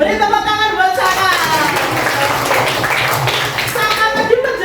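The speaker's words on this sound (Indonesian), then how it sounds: "Beri tepuk tangan buat Saka." Classroom applause for a student named Saka, a steady wash of many hands clapping at close range that runs the whole time with no speech.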